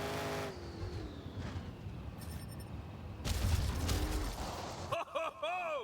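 Monster truck engines in Monster Jam Showdown roar and rev under a commentator's excited voice, with rising whines, a loud crashing burst midway and tonal game effects at the end.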